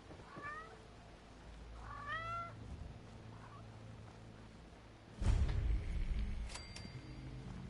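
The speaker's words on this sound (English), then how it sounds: "Yes, cat, I hear you." A cat meows twice in rising, wavering calls early on, close and clear over quiet room tone, followed by a louder burst of low rumbling noise and a brief high electronic tone.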